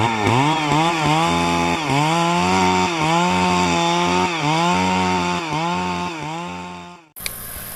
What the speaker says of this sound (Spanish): Un ruido en la selva que asemeja que hay muchísima cantidad de árboles talándose